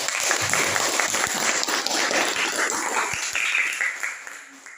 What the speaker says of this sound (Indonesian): Beri tepuk tangan dulu dong untuk kelompok 3.